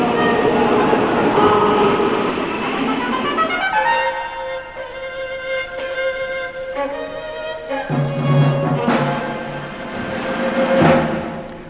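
An express train at London's Victoria Station rumbles loudly and close by, with rolling wheel noise giving way to sustained tonal squeals and hisses, then a renewed heavy surge of mechanical roar near the end.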